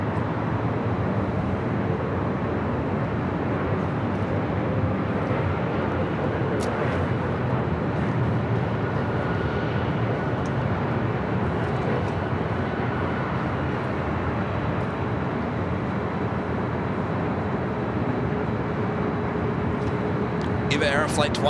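An Eva Air Boeing 777-300ER, a heavy jet inbound from Taipei, arriving at LAX. Its engines give a steady, distant roar that holds through the whole stretch, with a voice talking over it.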